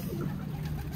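Soft, low pigeon cooing in a pigeon shop hums briefly and faintly, a gentle murmuring tone.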